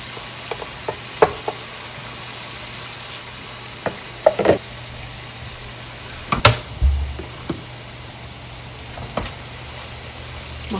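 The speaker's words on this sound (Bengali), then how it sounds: "মশলাটাকে একটু ভালো করে কষিয়ে নেব।" Ground spice masala frying in a pan makes a low, steady sizzle. Scattered knocks and scrapes from a spoon stirring it stand out here and there.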